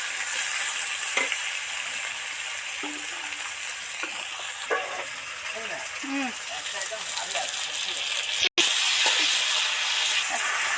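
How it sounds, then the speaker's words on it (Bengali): Potatoes and tomatoes deep-frying in a generous amount of oil give off a steady, dense sizzling hiss, with a brief knock partway through and a voice heard faintly behind it. "আলু আর টমেটো একদম অনেকটা তেলের মধ্যে ছেড়ে দিলাম"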